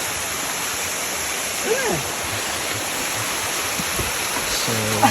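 Steady broadband rush of Miji Falls, a waterfall reached by trekking, heard close and constant throughout, with a few faint brief sounds over it and no clear speech.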